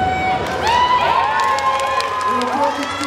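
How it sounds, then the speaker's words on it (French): An audience at a DconGeek 2025 convention contest applauding and cheering, with sustained clapping and whistles mixed with shouting voices. "Une minute d'applaudissements et de photos."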